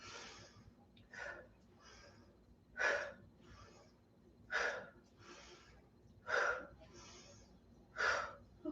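Vigorous breathing during a qigong warm-up, with forceful, rhythmic breaths roughly every second and a half, close and clear with quieter inhales between them.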